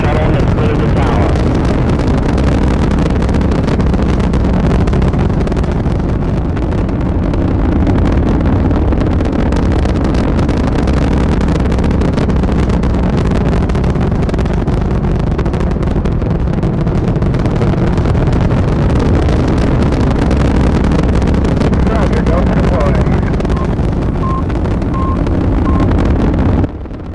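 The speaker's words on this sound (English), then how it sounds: "Liftoff of mission 41D, the first flight and the shuttle has cleared the tower." Space shuttle mission 41D lifting off, played back through a VR app: a loud, steady, broadband rumbling roar that holds without break for the whole stretch.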